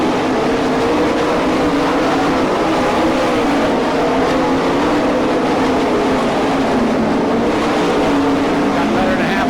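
Race cars roar around a half-mile dirt speedway during a feature race, a dense continuous engine drone heard from a distance with no break or individual pass standing out.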